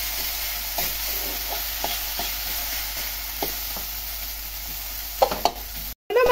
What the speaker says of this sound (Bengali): এইভাবে এবার নাড়াচাড়া দেবো, এবারেই হয়ে যাবে